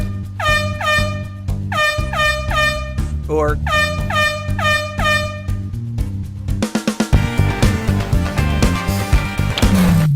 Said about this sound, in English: Why not try a question with air horns?